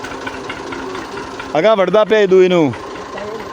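A tractor engine runs steadily in a farm field, a low continuous drone throughout with someone talking loudly over it midway.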